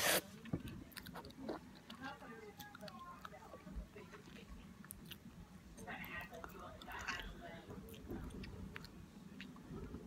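Bubble gum being chewed close to the mouth, soft wet smacking and clicking in an irregular rhythm, with quiet whispery talk heard throughout.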